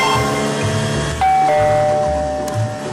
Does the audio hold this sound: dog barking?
no